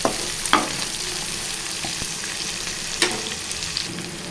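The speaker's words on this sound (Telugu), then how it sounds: "కొంచెం దూరగా వేయించుకోవాలండి." Chopped ivy gourd fries in a pan with a steady, close sizzle, broken by a few louder crackles and stirring knocks.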